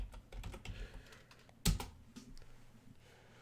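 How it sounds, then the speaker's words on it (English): Keys clatter on a computer keyboard in quick, uneven bursts, close and moderately quiet, with one sharper, louder keystroke partway through and no voices. "I'm going to type in blue."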